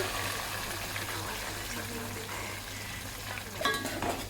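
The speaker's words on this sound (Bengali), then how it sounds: "এবার এটাকে সুন্দর করে একটু ভাজা ভাজা করবে, একটু লাল লাল ভাব চলে আসবে।" Onions frying in oil with ginger, garlic, cumin and curry leaves for khichuri, a steady low sizzle broken by brief utensil clinks and stirring near the end.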